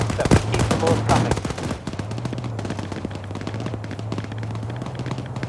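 Rapid automatic gunfire from an infantry-focused military shooter game, loud and dense bursts up front that settle into a steady rattling fire with a low continuous hum underneath.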